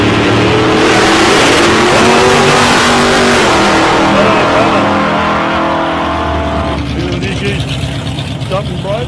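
Drag racing cars, one of them an HQ Holden, launching at South Coast Raceway with loud roaring engines and high revving that fades slightly toward the end, with a voice talking over it.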